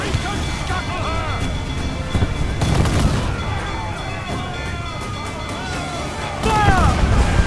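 Ship cannons boom in repeated heavy blasts during a naval battle in Assassin's Creed Black Flag, layered over crashing water, creaking and a constant roar, with voices shouting throughout.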